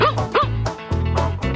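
Several dogs yip and bark close by in short bursts, about four sharp barks in under two seconds with whiny, high-pitched tones and no talking.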